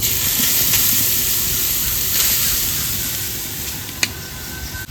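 Grated carrots sizzle in hot ghee in a wok, a steady close frying hiss with a few faint clinks of a utensil, and no talking.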